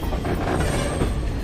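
The Nauchandi Express train arriving at Meerut City Junction, heard from on board as a loud continuous rumble of rolling wagons with a faint high squeal, steady throughout with no voices.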